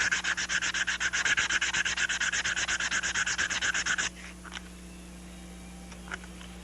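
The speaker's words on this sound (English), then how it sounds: "So the first thing I want to do is get a nice flat sanded on this." Rapid back-and-forth sanding strokes flatten a model airplane wheel hub, a steady rasping rhythm for about four seconds before stopping, followed by quiet with a few faint handling taps.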